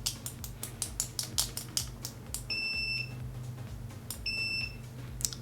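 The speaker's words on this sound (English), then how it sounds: "Beeper is very loud, annoying." Continuity beeper on a Circuit-Test DMR-6550 multimeter sounding two loud, sustained high-pitched tones in a row, over faint clicking and handling noise.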